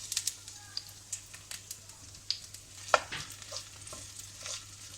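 Onion frying in oil in a pan gives a faint sizzle, broken by scattered sharp clicks and scrapes of stirring, one louder knock midway.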